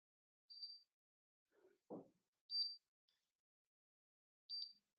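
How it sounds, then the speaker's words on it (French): Short, high electronic beeps from a LoRaWAN sensor searching for the network sound three times, spaced apart in a quiet setting, with a brief soft rustle in between. "Là, on entend, il fait bip"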